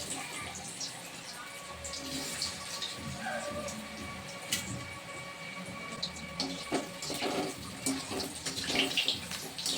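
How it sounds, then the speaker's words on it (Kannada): Potatoes fry in hot oil with a dense, continuous sizzle heard up close, fairly loud and even throughout with small crackling bursts. "ಫಸ್ಟಿಗೆ ಎಣ್ಣೆ ಕಾದಿದೆ, ಆಲೂಗಡ್ಡೆನ ಫ್ರೈ ಮಾಡ್ಕೊತಾ ಇದ್ದೀನಿ"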